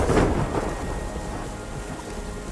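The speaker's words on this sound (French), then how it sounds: "Sur ce bruit de pluie là." Rain pours steadily with rolling thunder rumbling in a video game, a dense continuous wash that is loudest at the start and then settles into a steady downpour.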